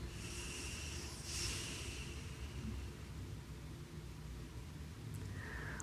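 Slow, steady exhale through the left nostril during alternate nostril breathing, a soft continuous breathy hiss lasting several seconds, close and fairly quiet with no talking.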